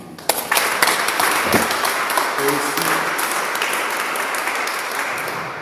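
Congregation applause at a Christian community prayer service in Brussels, steady crowd clapping sustained throughout, with a voice speaking briefly over it.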